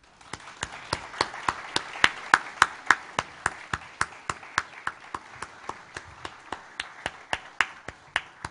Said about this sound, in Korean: 우리 나올 때 큰 박수로 격려해 주시기 바랍니다.